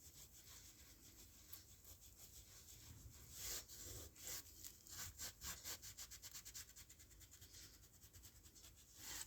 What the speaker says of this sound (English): when the scrubber works on a paper, it gives a sound like that